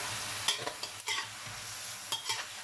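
Champignon mushrooms and minced pork stir-fried in a pan with a splash of water, a soft continuous sizzle broken by several quick scraping strokes of a spatula, fairly faint and close.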